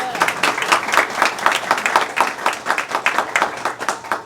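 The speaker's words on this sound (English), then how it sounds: "Could we give my cousin a round of applause?" An audience at a school library dedication applauds steadily, many hands clapping in a dense, even patter for several seconds with no one speaking over it.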